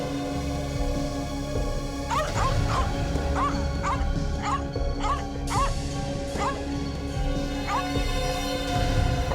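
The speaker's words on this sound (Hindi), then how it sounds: "कुत्ता परेशान है" A distressed dog locked alone inside a house gives a run of repeated yelping barks and whimpers, fairly close and steady across the stretch, over a constant background hum.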